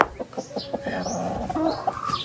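Backyard chickens cluck and murmur close by in a short burst of soft, rhythmic calls with no speech over them.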